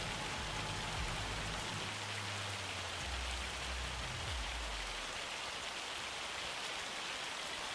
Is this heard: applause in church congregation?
no